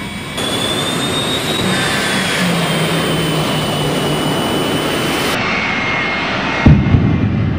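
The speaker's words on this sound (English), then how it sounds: "A jet tanker and a modified tank." A jet-powered tanker truck and a modified tank at Alaska Raceway Park drag strip roar with a loud, sustained jet-engine blast and a high whine. The sound cuts off sharply near the end with a thump.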